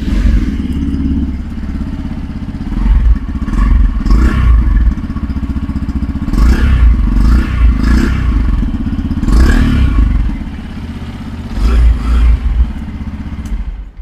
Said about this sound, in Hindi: तो मैं बाइक को स्टार्ट कर लेता हूँ।